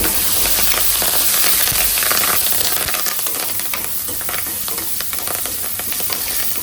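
Green chillies and curry leaves sizzling and crackling in hot oil in a pan, a loud, steady frying hiss with scattered pops throughout, no voices.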